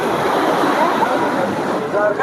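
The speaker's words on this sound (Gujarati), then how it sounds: "અને ઘાટ પાસે તમે જોવો કેવા મોજા ઉછળ્યા દરિયાના પાણીના।" Sea waves surge against the ghat at the Dwarka seashore, a steady loud broadband wash of surf with wind, continuous and close throughout.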